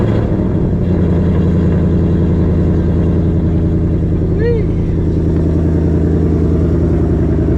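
A 500hp Ford Mustang GT S650 cruises on open roads at night, its engine a loud, continuous low rumble from inside the car that holds steady with slight pitch changes throughout.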